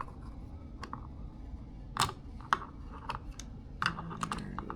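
Plastic trim clips on a 2002–2007 Subaru WRX/STi being pried loose with a pick give a few sharp, scattered clicks and snaps over a low background hum, close up with no talking.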